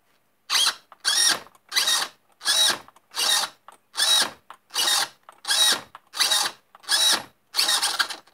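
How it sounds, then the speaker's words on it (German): A new steering servo on a Losi 5T large-scale RC car sweeps back and forth in about eleven quick, even whirring bursts with short pauses between, close and fairly loud, with no talking. "jetzt könnt ihr mal sehen, wie schnell der Servo geht."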